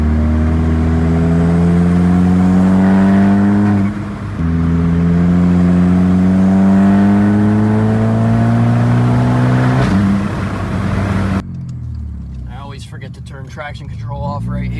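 A VW MK6.5 GLI with an IS38 turbo swap pulls hard in 4th gear, its engine note climbing steadily and loud, easing briefly at a shift, then rising again before dropping off; voices occasionally speak over it.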